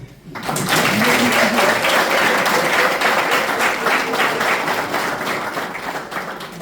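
Audience applause at a foundation key-handover ceremony, starting abruptly after a brief pause and holding loud and dense before easing slightly, with faint voices mixed in.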